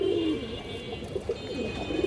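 Two pairs of Muslodom pigeons coo close by, a low throaty burble rising in short bursts over a steady background hum.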